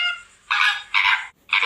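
Flamingo honking: three loud, nasal, goose-like honks in a steady rhythm after a fainter lead-in call, close and alone.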